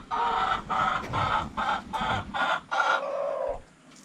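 Layer chickens cluck in a steady series of about eight loud, close, evenly spaced calls before laying eggs, with faint background noise between them.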